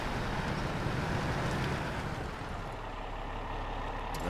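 A truck engine in a video game runs with a steady, broad, low rumble that eases slightly partway through, with no speech.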